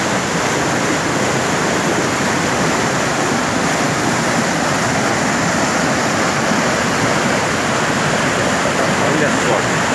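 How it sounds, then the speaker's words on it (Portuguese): Floodwater rushes loudly along Ribeirão Grande, a stream in Brazil swollen after more than an hour of heavy rain. The roar is constant and close, and broadband noise fills the whole clip. "Olha onde a água está passando."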